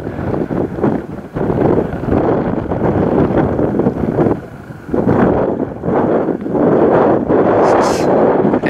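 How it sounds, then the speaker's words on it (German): Constant wind buffets the microphone beside the harbour at Greetsiel on the North Sea coast, giving loud, rumbling gusts that surge and ease in waves of noise, with a brief lull midway. "Ich hoffe, das geht mit den Windgeräuschen,"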